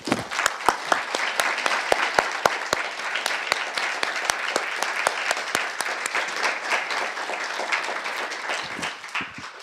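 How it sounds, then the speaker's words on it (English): Big round of applause from an audience at a panel event on gender equality and climate change, dense sustained clapping with sharp individual claps standing out, tapering slightly at the close. "So would you please join me in giving a big round of applause?"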